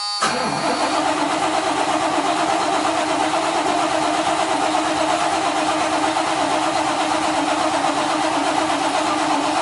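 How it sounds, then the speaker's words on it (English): An engine is cranked and catches, with a brief starter whir at the outset followed by a loud, steady running engine that holds close and constant. "we'll crank it, 100 million times"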